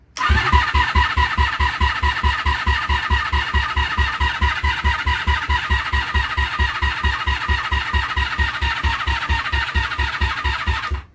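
A 1987 Honda Super Magna 700 (VF700C) motorcycle engine cranks steadily for several seconds with the choke on, the starter producing a rapid, even chugging rhythm that never catches, loud and close with no talking.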